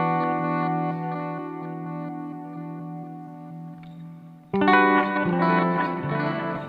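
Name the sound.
EQD Avalanche Run guitar pedal reverb into delay effect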